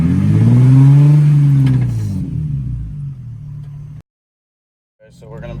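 A Nissan 350Z fitted with an in-line hydraulic handbrake is driven after brake bleeding. Its engine revs up loudly and close, then settles into a lower drone and cuts to silence before a brief sound returns.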